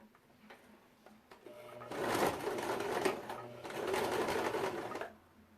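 A domestic sewing machine stitches vintage synthetic fabric in two steady, whirring runs separated by a short pause, with a few light mechanical clicks before and after.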